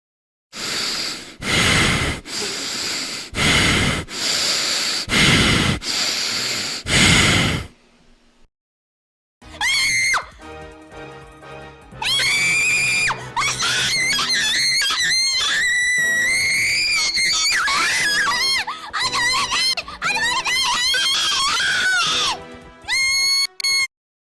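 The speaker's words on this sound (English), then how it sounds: "I'm going to test the Akai Haato screaming sound effect." Screaming sound effect from Akai Haato's livestream: a run of loud, rhythmic gasping bursts, then after a short pause a long stretch of high, wavering shrieks and cries, close and loud.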